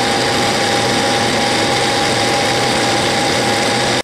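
A South Bend metal lathe cuts a small chamfer on the end of a sleeve, giving a steady, loud mechanical whir with a fine high hiss that runs unbroken and then cuts off abruptly near the end.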